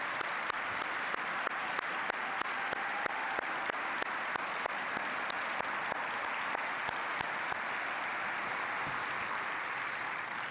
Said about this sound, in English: Let's have a round of applause for all of these incredible honorees